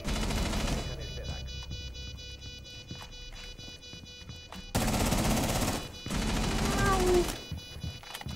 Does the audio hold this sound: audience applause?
no